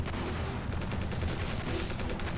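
WW1 weapons firing in the Ravenfield game, dense rapid gunfire crackling almost without pause over a continuous battle din.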